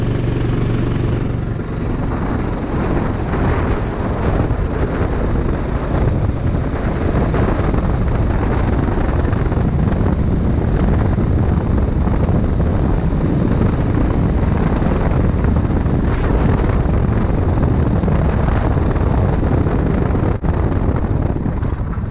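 Electric go-kart conversion making a fast run down the block, its motor whine and strong wind rush loud and continuous for the whole pass, with no speech.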